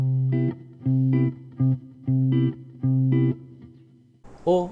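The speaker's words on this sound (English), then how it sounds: "So a jazz voicing of the 2-5-1 might sound something like this." Clean electric guitar plays a jazz-voiced ii-V-I progression with major seventh chords, five sustained strummed chords in a steady rhythm, close and moderately loud, ending in a brighter higher chord.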